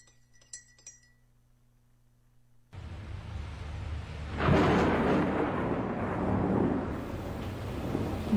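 After a quiet start with faint clicks, a deep rumble of thunder rolls in and swells into a sustained roar of a strong typhoon that continues to the end.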